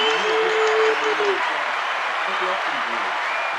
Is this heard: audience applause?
yes